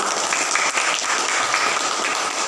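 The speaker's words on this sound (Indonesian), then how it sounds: "Tepuk tangan untuk kalian semua" A classroom of students claps for themselves, with steady, fairly loud and sustained group applause close by and no speech over it.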